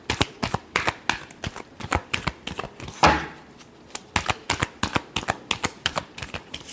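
Tarot cards shuffled by hand in a rapid, steady series of crisp riffling slaps, close and fairly loud, with one longer riffle midway and no talking.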